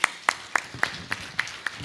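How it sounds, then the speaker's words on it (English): Sparse, evenly spaced claps ring out at a Tana Forum 2019 tribute to Winnie Madikizela-Mandela, about seven sharp hand claps in a steady rhythm, fairly close and alone. "Shall I give another round of applause, please?"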